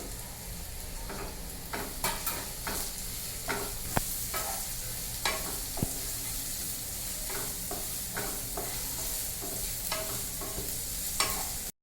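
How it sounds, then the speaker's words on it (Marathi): Onions fry in a pan with a steady, close sizzle, broken by frequent scrapes and clicks of a spatula stirring. "कांदा फ्राय करून झालेला आहे."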